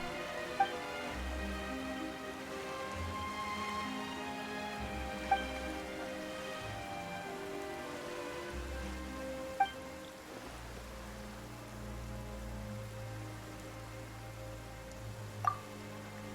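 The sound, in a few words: rain falling in video game Genshin Impact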